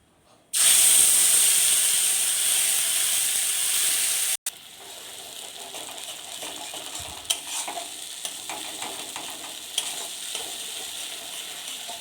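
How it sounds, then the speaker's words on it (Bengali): Spice paste for chhanar kofta curry hits hot ghee in a pan, bursting into a loud, bright sizzle that holds steady for a few seconds, then drops to a softer crackle with scattered stirring clinks. "এবার এই যেটুকু ঘি বেঁচেছে তার মধ্যেই আমি দেব যে পেস্টটা আমি বানিয়ে রেখেছি সেইটা"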